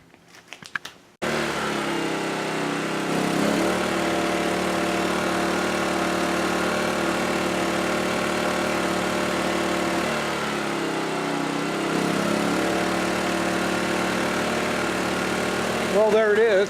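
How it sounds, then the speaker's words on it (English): A portable generator beside a Roadtrek camper van drones steadily and loudly after a brief start, with its pitch and load shifting as it cycles up and down. "It seems to be running quite nicely on the generator."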